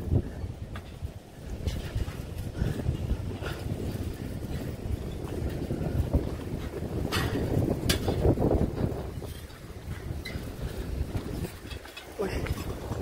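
Steady rushing wind buffets the microphone throughout, with low rumbling gusts and intermittent crackles, a voice occasionally audible beneath.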